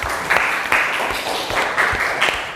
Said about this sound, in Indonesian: Kita kasih aplaus untuk Rina ya.